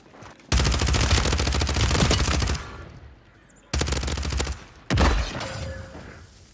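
Rapid automatic gunfire in a video game, loud bursts of continuous shots lasting a couple of seconds, then two shorter volleys after brief pauses.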